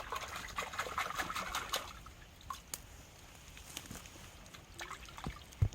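Water is poured over a freshly dug-up tuber to wash off the soil, trickling and dribbling steadily for the first couple of seconds, then thinning to faint drips and small splashes.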